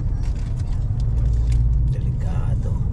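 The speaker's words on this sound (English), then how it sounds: "So ngayon talaga na bumper to bumper ang labanan dito." Bumper-to-bumper road traffic with trucks in Quebec, heard as a low, steady engine and road rumble from inside a vehicle, with faint voices and scattered clicks on top.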